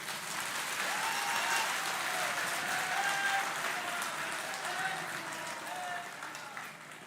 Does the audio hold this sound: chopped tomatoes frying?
no